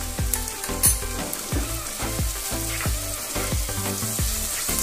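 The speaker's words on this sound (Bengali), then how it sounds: "রসুনটাও পেঁয়াজের সাথে ভালো করে মিশিয়ে লাল করে ভেজে নেব।" Onion and garlic paste frying in hot oil in a pan, a dense close sizzle with rhythmic scraping strokes of a spatula repeating about twice a second throughout.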